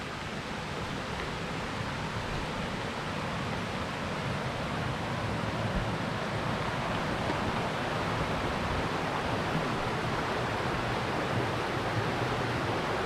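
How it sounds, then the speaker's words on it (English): Waterfalls and running water along the White Oak Canyon hiking trail make a steady, broad rushing roar, continuous and even throughout with no talk. "I've been able to hear waterfalls or running water the whole time"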